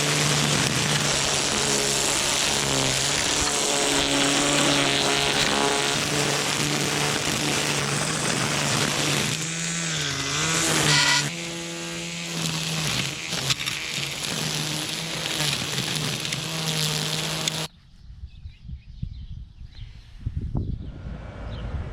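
A Kobalt 40v battery-powered weed trimmer cuts grass, a loud whining motor hum with wavering pitch as the line bites into growth, then it cuts off abruptly and only faint rustling follows.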